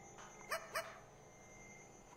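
Puppy in the CTRL ALT EGO video game giving two quick, faint, high yips close together, followed by a tiny click at the end.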